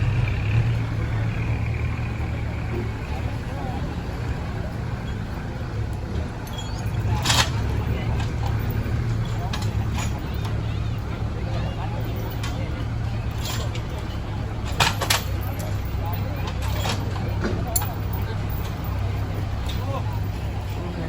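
A tractor engine, an M95 farm tractor, drones steadily while it pulls a six-wheel dump truck loaded with laterite soil that is stuck deep in mud, with continuous low rumble and occasional louder bursts under background talk.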